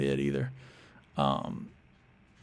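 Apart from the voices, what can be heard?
No everyday noises stand out.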